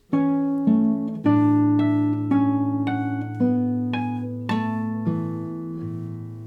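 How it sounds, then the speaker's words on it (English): Right-hand harmonics on guitar play the opening of Brahms' Lullaby: bell-like, chiming notes over soft bass tones, each plucked note ringing and slowly fading, about eight in a gentle, unhurried rhythm, near and alone. "in the second half here we have right hand harmonics,"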